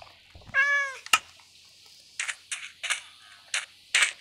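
A Minecraft cat gives one clear, close meow with a pitched, harmonic tone, followed by a scatter of short clicks and taps like keyboard presses.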